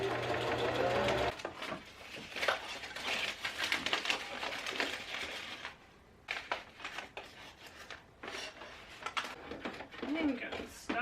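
A sewing machine stitches a small bag made from scraps and old envelopes in quick rattling bursts, stopping and restarting several times, while a person talks between and over the runs.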